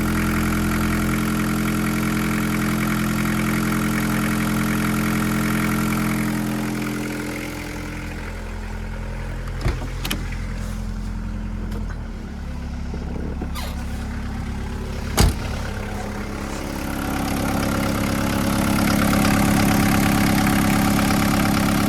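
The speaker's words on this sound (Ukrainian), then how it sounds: "Ось так працюють наші двигуни, які ми привозимо" A Volkswagen T4 1.9 ABL van diesel engine idles with the choke pulled out, a steady low rattling throb, dipping quieter midway with a couple of sharp clicks before revving back up.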